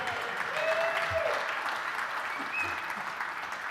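A conference audience applauds at the end of a talk on XQuery, XSLT and XPath, with steady clapping sustained throughout and a faint murmur of voices.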